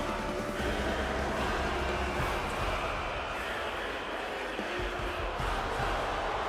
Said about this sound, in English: See, a lot of people booing the Anti-Corporate Alliance here.